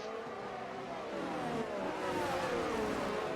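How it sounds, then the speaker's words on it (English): Racing car engines in a sim racing video game during the final lap of a round at Saudi Arabia, a steady mid-pitched engine drone with rising revs and tones sweeping slightly, continuous and fairly loud with no talk. "Cosmic has gotten past the first of the Ferraris."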